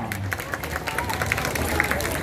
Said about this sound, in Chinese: 用点掌声带回去好不好